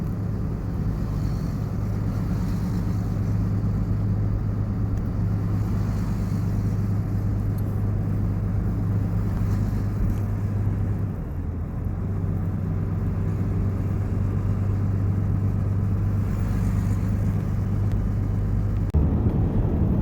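A car drives through a small mountain town in Creede, Colorado, its engine and road noise a steady low drone heard from inside the cabin with some wind buffeting, no one talking.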